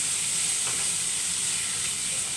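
Mushrooms sauté in a hot pan for ginisang kabute with alugbati, a dense, steady sizzle and hiss close up, alone and without talk.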